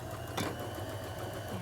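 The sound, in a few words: sewing machine stitching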